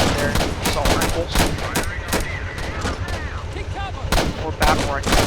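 Rapid machine gun bursts and rifle shots from a plastic army men video game battle, loud and dense, overlapping in quick volleys with no pause throughout.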